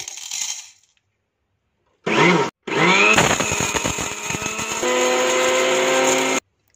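Spice grinder whirring through black pepper with soft cinnamon pieces and cloves, a few short bursts after silence, then a sustained loud electric grinding hum that cuts off abruptly.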